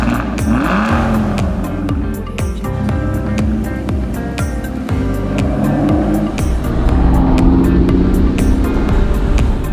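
A 2017 Aston Martin Rapide S is driven hard. Its engine is loud and close as it revs up through repeated gear changes, and the tires squeal briefly.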